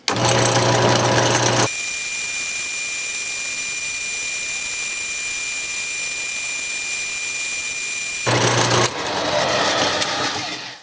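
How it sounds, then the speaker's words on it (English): A wood lathe spins a purpleheart pen blank while a heat gun blows on it, giving a steady high whine with a louder broadband roar at the start and end. "So I'll turn on the lathe and turn on the heat gun."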